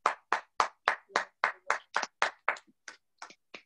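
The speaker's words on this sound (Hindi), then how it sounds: "क्या हम खुदा के लिए तालियां बजा सकते हैं?" A small church congregation claps in unison for God during a wedding, about a dozen sharp, evenly spaced claps that slow and thin out toward the end, with no talk over them.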